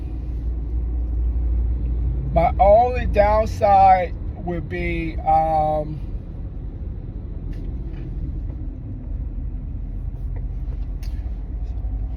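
A car moves through traffic with a steady low engine and road rumble. Someone talks over it from inside the car for a few seconds, then the rumble carries on alone.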